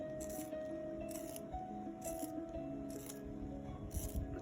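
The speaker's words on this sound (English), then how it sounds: "let me sharpen my pencil" A manual pencil sharpener grinds a colored pencil in rhythmic bursts, each turn giving a short scraping rasp, about five passes close up over a steady low background hum.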